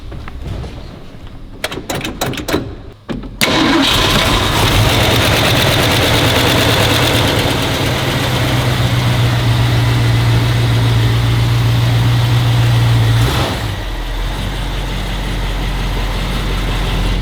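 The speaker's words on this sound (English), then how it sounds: "We'll go ahead and fire this one up for you guys." A two-owner classic car from a dealer's lot, with a few clicks and a brief crank before the engine catches, then a loud, steady low idle running close by for the rest of the clip.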